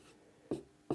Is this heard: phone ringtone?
no